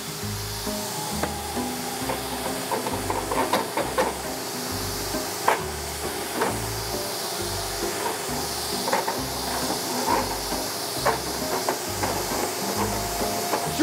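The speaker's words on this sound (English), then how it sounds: "this is the most powerful Rotobrush beast, supposedly. It runs two motors, two vacuums. We're gonna fire it up now." A Rotobrush air duct cleaning machine with two vacuum motors runs inside ductwork, a constant hissing roar under a steady low pulsing beat, with scattered knocks and clatters from the brush hitting the duct.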